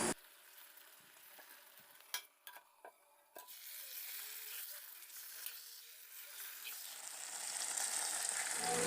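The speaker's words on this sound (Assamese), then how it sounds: "গেছৰ ফ্লেমটো মিডিয়াম টু ল' ফ্লেমত ৰাখি 2 বা 3 মিনিটৰ মূৰে মূৰে মাংসখিনি লৰাই থাকিব" Chicken curry meat fries in a pan over a medium-low gas flame, with a spoon scraping and clacking through the pieces at first, then a steady sizzle that grows louder and brighter toward the end.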